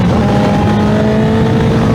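A car driving close behind a motorcycle on the road, a loud, steady engine drone that fills the whole moment with no talking.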